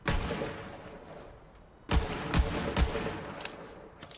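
A legendary pistol fires in the shooter game Borderlands 3. A sharp blast opens the passage, followed after a lull by several punchy shots with deep thumps, all loud, over a steady game-ambience wash.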